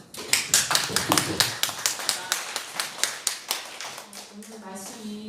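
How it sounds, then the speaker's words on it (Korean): Church congregation applauds after a sermon: a steady run of distinct claps, fairly close and moderate in volume, fading near the end as a voice begins speaking. "박수"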